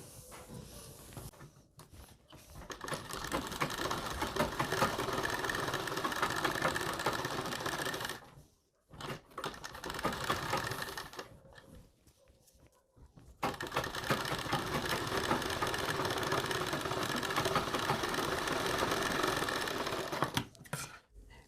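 Sewing machine running steady stitching runs along buckram on blouse fabric, a continuous close mechanical whir broken by several short pauses, no talk.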